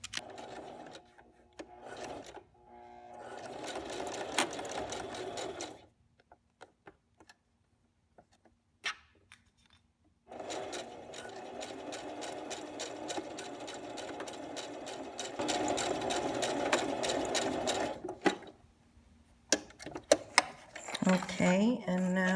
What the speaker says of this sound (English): I'm sewing the 3/8 inch first, and then I'll sew the narrow edge.